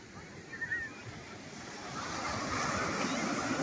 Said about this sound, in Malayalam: നമ്മളുള്ള സ്ഥലം എന്ന് പറഞ്ഞാൽ ആലപ്പുഴ ബീച്ച് കേട്ടോ